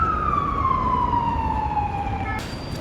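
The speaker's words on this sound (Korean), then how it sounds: "경찰차랑 앰뷸런스가 왜 이렇게 많이 돌아다니죠?" An emergency siren from a police car or ambulance on a Brussels street wails loudly in one long falling tone, then cuts off abruptly into a new higher note.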